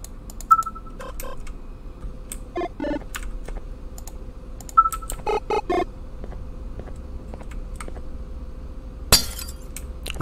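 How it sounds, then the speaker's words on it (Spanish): Yellow glass in the Garten of Banban horror game cracks and clinks in sharp separate impacts, a few clusters of knocks and one bright shattering burst near the end, set against quiet room tone. "creo que el vidrio amarillo solo lo podemos romper"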